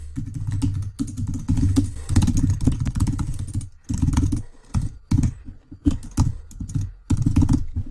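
Typing on a computer keyboard while filling out a web form, heard as close, rapid clicking in bursts broken by short pauses.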